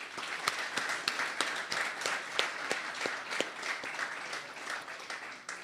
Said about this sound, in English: another round of applause and congratulations to our recipients